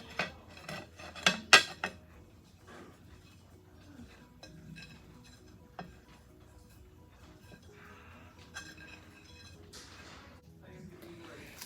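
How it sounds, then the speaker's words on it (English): Shredded cheese being stirred into a stovetop cheese sauce for macaroni, with a utensil clinking and scraping against the pot, louder at first and then a softer, intermittent stirring. "Stir this in until the cheese melts."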